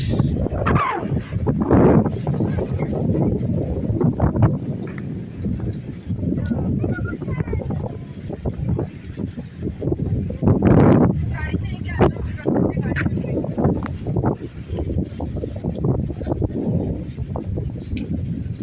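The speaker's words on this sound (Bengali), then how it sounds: "অনেক বাতাস।" Strong wind buffets the microphone on the Arabian Sea shore at Marjan Island, Ras al Khaimah, a loud continuous roar with gusts, mixed with surf and someone talking over it throughout.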